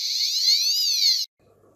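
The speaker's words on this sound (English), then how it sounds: "the red light goes off, and the buzzer comes on" A small electronic buzzer on a Keyestudio ESP32 smart farm kit sounds one steady, shrill, slightly wavering tone for about a second, then cuts off abruptly into near silence.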